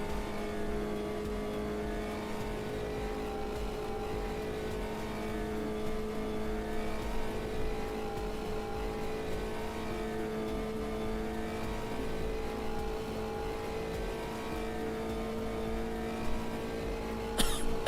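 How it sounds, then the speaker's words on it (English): A race car engine in the Automobilista 2 racing game at Monza drones steadily and loud throughout, a flat sustained tone with a brief sharper burst at the very end. "There needs to be some like 3D added to the engine sound."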